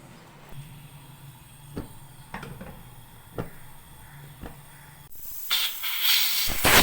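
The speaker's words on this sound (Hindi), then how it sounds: "प्रेशर कुकर का ढक्कन लगा के इसे 10 से 12 मिनट के लिए जो है हम पकने के लिए छोड़ देंगे" A pressure cooker of palak gosht simmers on a low flame, giving a few faint, sharp clicks over a steady low hiss that swells into a louder, rushing steam hiss near the end.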